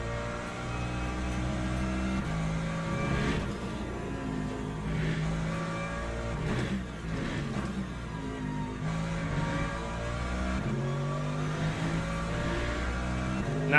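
Race car engine in Le Mans Ultimate held under hard throttle, a loud continuous drone with rising and falling revs as it accelerates and shifts, steady and close with no talking.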